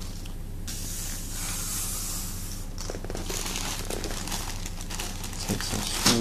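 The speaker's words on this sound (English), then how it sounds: "Take some screws out of the bag here, the stainless ones" Stainless steel screws rustled and rummaged inside a bag during a Traxxas radio-control truck build, a steady close crinkling and rattling that runs throughout with small clicks near the end.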